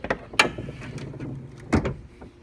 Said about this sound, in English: Under the hood, I'm gonna have to open it.